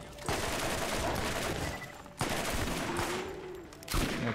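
Rapid automatic gunfire from Vladof guns in the Borderlands video game, sustained bursts with brief pauses between them, fairly loud and close with a faint voice underneath.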